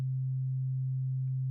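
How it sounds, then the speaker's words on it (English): Synthesized sine wave drone: a steady, pure low tone held unchanging and loud for the whole moment, with nothing else around it. "this sine wave works really well"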